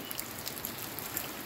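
Heavy rain falls during a typhoon, a dense, steady hiss of drops with scattered faint splashes, continuous and fairly close, with no voices.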